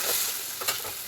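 Tomatoes sizzle and hiss as they are stirred in a hot pan for a drumstick and potato curry, a close, continuous frying crackle with a light scrape of stirring.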